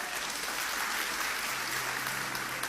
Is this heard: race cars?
no